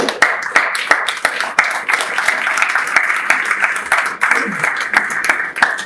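A forum audience applauds its speakers after a talk on the Green New Deal: close, steady clapping with sharp individual hand claps standing out, and a brief voice in the middle.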